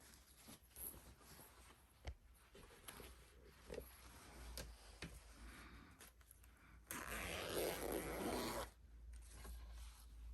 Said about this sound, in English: you're just going to unzip your zipper